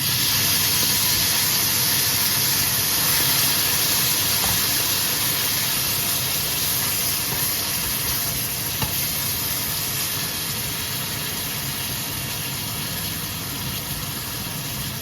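Sauce for minced-meat Zurich Geschnetzeltes poured into a hot pan of meat, a loud, continuous hissing sizzle that holds steady throughout, with no voices.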